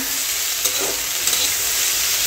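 Vegetables fry in oil in a pan with a dense, steady sizzle close by, and a couple of soft stirring scrapes show through.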